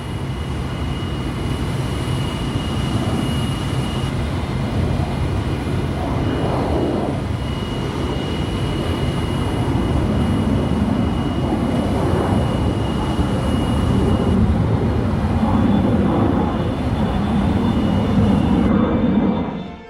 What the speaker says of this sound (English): pilot Al White rotated Test Air Vehicle Number 1 into flight.